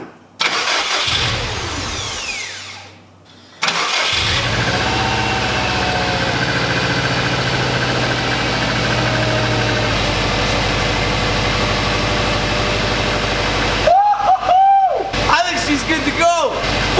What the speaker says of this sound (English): She runs. It's so quiet. She's got a good purr to it, though.